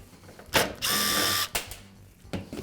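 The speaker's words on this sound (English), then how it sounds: "I'll remove the screw on the other side" Screws being backed out of the trailing shield on a Toro lawn mower deck, a sharp ratcheting burst of about half a second followed by a few brief clicks and knocks, close and alone.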